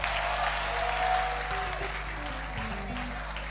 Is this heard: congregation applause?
yes